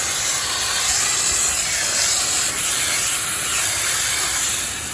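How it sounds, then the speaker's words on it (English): Steady, loud hiss of water spraying from a hose onto the radiator and oil cooler of a BMW S1000RR motorcycle, continuous and close, with no pauses or voices. "I'm gonna take my hose, spray water."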